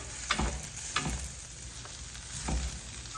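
Sweet potato and sausage hash frying in a fairly new pan that still sticks a little, with a soft steady sizzle broken by a few scraping stirs of the spatula.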